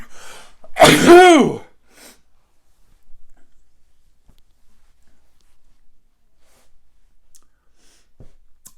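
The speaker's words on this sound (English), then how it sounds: "I got a sneeze cooking." A single loud, close sneeze with a sharp intake and burst, followed by near silence with a few faint clicks.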